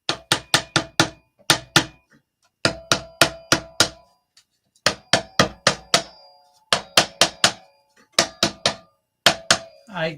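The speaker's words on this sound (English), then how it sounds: "I'm getting my hammer out." A small trim hammer striking repeatedly, in bursts of four to six sharp, close raps separated by short pauses, crisp and loud with no talk over them.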